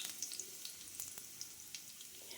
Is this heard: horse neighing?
no